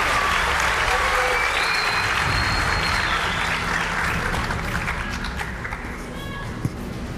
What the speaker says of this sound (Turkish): Alkışlarınızla eser yenilerini sahneye çağırmak istiyorum.